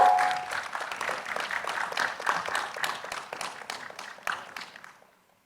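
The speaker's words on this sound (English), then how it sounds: "Let's give them a round of applause" A room of people gives a sustained round of applause at the close of a panel discussion, dense clapping holding steady before tapering off and fading out at the end.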